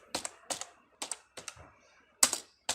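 HTML code being typed on a computer keyboard: a handful of distinct, crisp key taps spaced unevenly, close and fairly quiet, with no talking.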